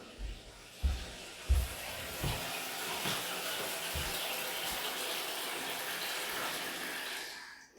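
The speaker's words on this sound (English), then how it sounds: "you hear that water?" Steady indoor running water like a tap flowing continuously at low level, after a few dull knocks at the start.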